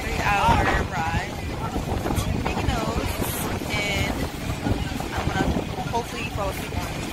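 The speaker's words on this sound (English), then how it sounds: "Yeah, so this is the ferry." A ferry carries passengers on a three-hour crossing to Mykonos, with steady engine and water rumble, strong wind buffeting the microphone, and people talking throughout.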